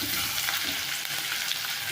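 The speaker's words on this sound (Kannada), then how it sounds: "ಸೊ ಇಷ್ಟನ್ನು ಹಾಕಿ ಬ್ರೌನ್ ಕಲರ್ ಬರೋವರೆಗೂ ಫ್ರೈ ಮಾಡೋಣ." Curry leaves fry in hot oil in a pan until they brown, giving a steady, dense, close sizzle with faint stirring throughout and no voices.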